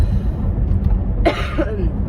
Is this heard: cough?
yes